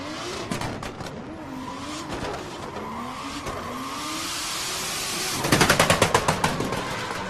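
A drift car at Red Bull Car Park Drift in Muscat screams at high revs over a steady engine drone, then erupts into a loud rapid string of bangs and pops near the end.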